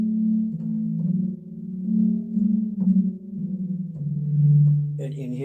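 Electronic church organ with deep bass pedal notes sustained low and steady, stepping between a few pitches over several seconds, with a brighter upper tone entering at the end.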